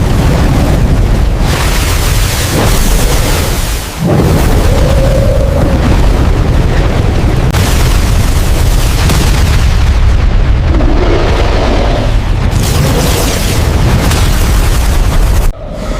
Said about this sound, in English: Charizard immediately unleashed Flamethrower.